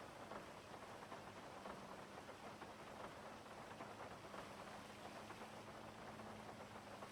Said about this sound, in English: it's fucking raining in the game